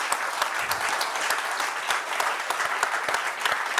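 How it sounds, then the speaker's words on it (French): An audience applauds the crew of the Maxi Banque Populaire V trimaran, a dense burst of clapping from many hands that carries on evenly throughout, no voices over it. "tout le monde ici vous applaudit"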